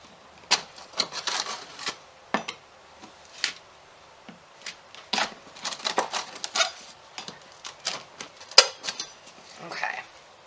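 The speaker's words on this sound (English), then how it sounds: "I'm going to run down a knife. If it sounds like that, it's done right." Knife blade run down the crust of a homemade white sandwich loaf, giving a series of close, dry scratchy crackles and taps in uneven bursts, loud and alone.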